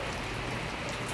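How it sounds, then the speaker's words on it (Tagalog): Steady rain falls on a roof over a small home shop, a soft continuous patter with no voices, fairly quiet and even throughout. "Medyo humina na naman ang ulan."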